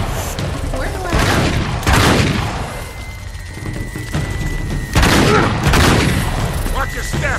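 Gunfire in the video game Uncharted 3: loud bursts of rapid shots and booming blasts come in two heavy waves with a quieter gap between them, close and dense.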